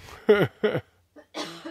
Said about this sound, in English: Oh, way to cough.